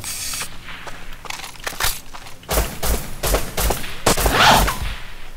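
Gunfire in the video game Rust: loud bursts of rapid shots in clustered volleys, with heavy thumps and a brief swishing sweep between them, close and dominating throughout.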